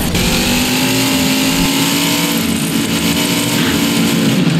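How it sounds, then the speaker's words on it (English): A super-sized zombie monster truck engine roaring in BeamNG Drive replay, a loud continuous near revving drone with a pitch shift midway, no talk. "instant replays of the Hulkster crashing into that super-sized zombie monster truck"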